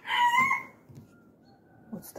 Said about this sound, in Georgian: წავედით ახლა ქათმები გამოვუშვით